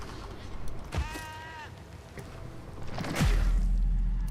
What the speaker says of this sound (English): Why did I make sheep noises when I fell?